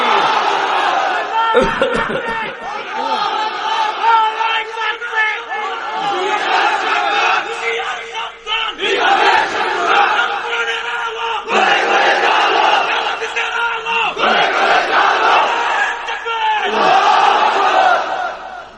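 A large crowd at an open-air Islamic sermon gathering shouting the takbir in unison, five or six loud, rhythmic chant bursts separated by short gaps.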